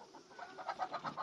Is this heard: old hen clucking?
yes